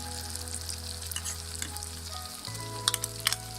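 Chicken with green chillies sizzles steadily in a pan, a continuous close frying hiss with a few sharper crackles and stirring clinks near the end.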